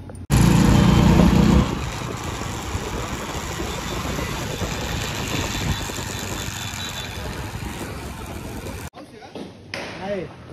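A vehicle engine roars past close by on a road, loudest in a brief burst at the start before fading into a lower rumble beneath ongoing voices.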